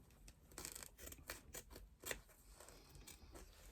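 Scissors trimming foam away from the seam allowance at the top of a fabric bag, a series of soft, close snips and rustling cuts, quiet and unaccompanied by talk.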